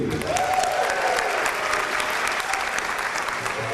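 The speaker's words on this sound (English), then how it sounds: "we'll announce those names again so you can applaud for them" An audience at a girls' varsity soccer state championship awards banquet applauding, a dense, steady wash of clapping from a large room that holds evenly throughout.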